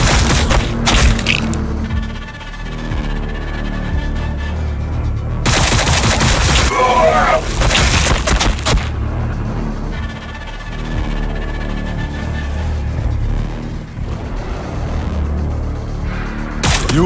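Battlefield gunfire in the Warhammer 40,000: Battlesector video game, on a reclamation zone mission: repeated rattling volleys and bursts with heavy thuds and booms that come in waves, alongside brief in-game voice lines.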